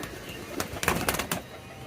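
Soft Koka pigeon cooing and fluttering nearby over a faint hiss, a few short bursts in quick succession, quiet and close.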